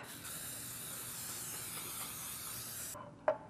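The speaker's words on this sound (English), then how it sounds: "you'll want to grab a muffin tin and your nonstick cooking spray. And I'm just gonna spray half" Nonstick cooking spray hisses steadily into a muffin tin for about three seconds, close and continuous, then stops, followed by a single small clink.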